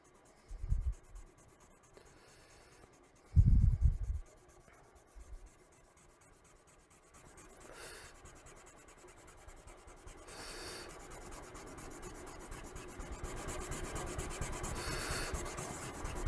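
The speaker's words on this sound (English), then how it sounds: "Let's erase the pencil and see if it's any better." Pencil marks rubbed off a drawing with an eraser: soft, quiet scrubbing strokes, a couple of brief bumps early on, then steady faint rubbing continuing to the end, no voices.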